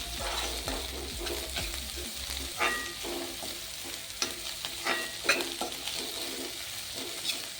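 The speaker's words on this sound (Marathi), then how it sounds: "ती कांद्याची पातसुद्धा आपल्याला याच्यात भाजून घ्यायची आहे" Chopped spring onions roasting with chili paste and onion for Khandeshi vangyache bharit, giving a steady frying sizzle with repeated sharp scrapes and clinks of a spoon against the pan, close and without talk.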